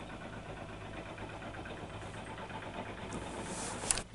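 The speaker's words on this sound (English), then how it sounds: "It's a tractor." A tractor engine idles outside, a low, steady rumble that stays faint and distant, with a brief swell of hiss near the end.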